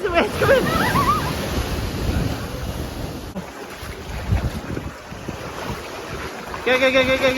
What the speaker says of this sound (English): Oh no, the wind's coming.